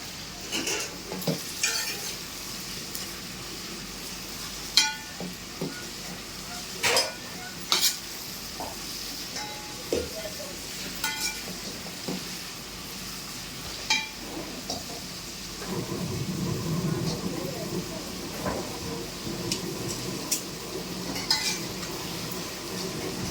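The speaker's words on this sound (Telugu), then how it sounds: "ఉల్లిపాయలు వేగేటప్పుడు ఆయిల్ వేసుకుంటే మంచి ఫ్లేవర్ వస్తుంది." Onions frying in oil in a pot with curry leaves and mint, a steady close sizzle broken by frequent scraping stirs and clinks of a spoon against metal.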